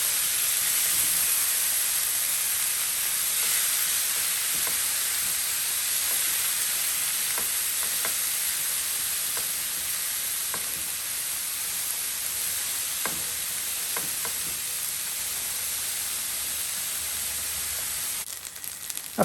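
Food fries steadily in a pan for a vegan meal prep, giving a continuous bright sizzle with occasional soft scrapes and ticks as it is stirred around, close up and without voices.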